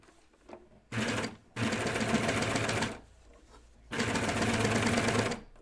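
A sewing machine fitted with a cutting knife sews a seam on jeans in three bursts, each a loud, fast mechanical whir, with short quiet pauses between runs.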